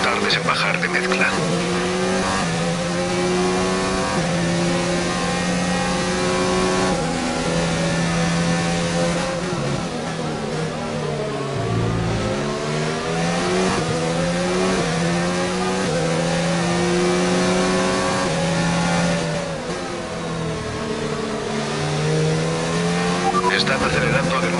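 Formula 1 race cars from F1 2019 on PS4 at the Austrian circuit accelerating, with loud sustained engine whine rising and falling in pitch through gear changes, continuous and close, with voices talking over it.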